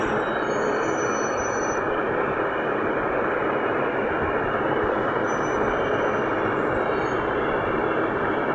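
Train in the Indian Bike Driving 3D mobile game, a continuous loud engine rumble and rolling roar that stays even and close for the whole stretch.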